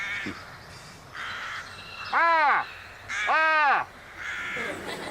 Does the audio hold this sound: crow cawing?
yes